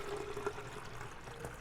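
Filtered water is poured into a vessel for cold brew coffee made with Panamanian beans, a brief, faint splashing stream heard close up with no talking.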